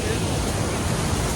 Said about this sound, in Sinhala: වතුර පාරවල් එනවා මෙතන සැරටම.